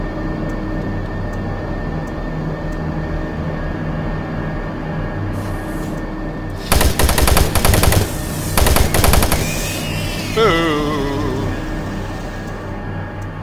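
Machine gun fire in Doom 3 bursts out in loud, rapid rattling volleys over a steady mechanical drone, followed by a warbling electronic whine as the shooting stops.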